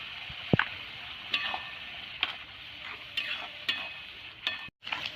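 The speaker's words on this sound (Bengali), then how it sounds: "খুব ভালোভাবে মশলাটা তেল ছাড়া অবধি ভেজে নেব।" Spices frying in oil for a Bengali mutton curry, with salt and turmeric powder, sizzling steadily while a spoon scrapes and stirs the pan in repeated strokes, close and moderately loud, with no talking.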